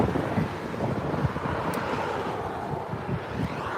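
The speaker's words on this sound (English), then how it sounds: "We've got Sun Country here taxiing out to 24 right for takeoff." A Sun Country airliner taxiing at LAX toward runway 24R, a distant steady jet engine rumble and whine heard outdoors under constant wind buffeting on the microphone.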